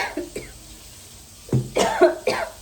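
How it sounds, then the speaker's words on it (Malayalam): A person coughs repeatedly, a few short, soft bursts at first, then three louder, harsher coughs close together near the end, heard up close in a quiet room. "ചുമയ്ക്കുന്നു"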